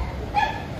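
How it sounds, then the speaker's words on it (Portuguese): One short, sharp dog yelp rings out at middle distance near a beach parking area in Bombinhas, Santa Catarina, over a low background hum. "Uma briga de cachorro ali?"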